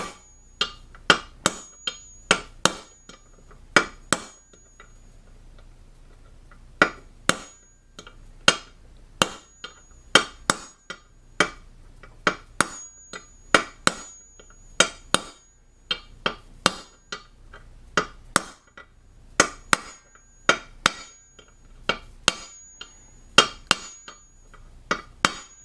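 Steady hammer blows drive a new bearing into the wheel hub of a 1976 Honda MR175 Elsinore motorcycle, dozens of sharp metallic pings at an uneven rhythm, close and clear with no talking.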